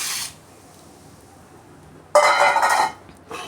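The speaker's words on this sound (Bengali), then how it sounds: "এই 1 বাটি চাল আমি কড়াইয়ে দিয়ে দেবো" Rice poured from a bowl into a metal wok in a home kitchen, a short dense hissing rush of grains lasting under a second, followed by a brief clatter, near and alone.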